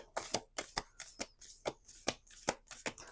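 Tarot cards being shuffled in quick riffles, a rhythmic series of crisp, fluttering bursts, close and clear with no talking.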